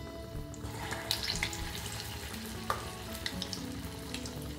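Gulgule made from wheat flour batter fry in hot oil with a steady, close sizzle and bubbling, broken by a few sharp pops and a light clink of a spoon.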